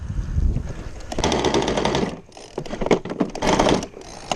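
An engine on its first start, running very rich, chugs loudly and roughly. Uneven bursts swell and dip, with a brief lull partway through before it picks up again.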